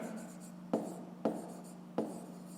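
A pencil scratches across paper during a fifth-grade maths exercise, with three sharp stroke onsets spaced evenly over a faint, quiet background hum.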